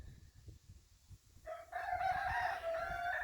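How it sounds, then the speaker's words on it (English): On a lavender farm, chickens cluck softly at first, then a rooster crows loudly nearby with a long, drawn-out call, with no talking. "of course I can hear the chickens"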